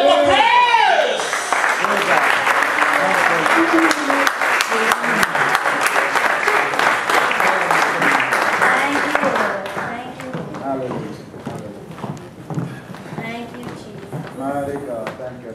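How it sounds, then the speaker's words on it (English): A church congregation at a gala banquet claps in praise, loud dense clapping for about ten seconds that then thins into scattered claps with voices beneath. "Give the Lord a clap of praise."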